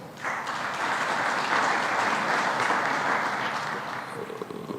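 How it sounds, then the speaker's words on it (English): Audience at a diplomatic briefing in Nairobi claps for Madam Bangura, with steady, full applause that starts abruptly and holds at a loud, even level throughout before easing slightly at the end. "she deserves a clap for being very supportive on this cause"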